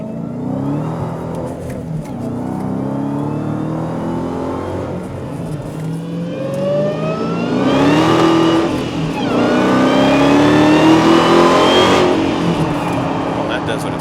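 A 2015 Dodge Challenger Hellcat with a supercharged 6.2-liter Hemi pulls hard in second gear, its loud engine and supercharger whine climbing steadily in pitch as the revs build.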